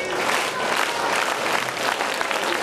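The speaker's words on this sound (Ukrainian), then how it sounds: "Учасники виступали для вузької аудиторії, а ті не шкодували овацій." A small audience applauding children after their performance, dense continuous clapping from many hands filling the whole stretch at an even, fairly loud level, with no distinct voices over it.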